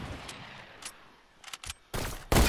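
Video game gunfire: a few faint scattered pops, then two loud, sharp bursts of shots close together at the end.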